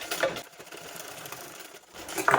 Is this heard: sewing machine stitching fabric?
yes